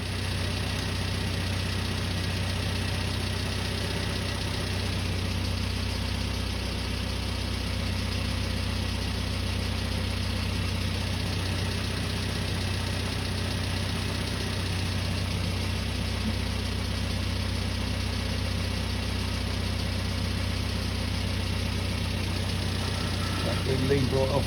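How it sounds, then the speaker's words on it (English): A car engine idling steadily just after its carburetor was tuned and leaned off, a continuous low rumble held at an even level throughout. "So let's get the engine running"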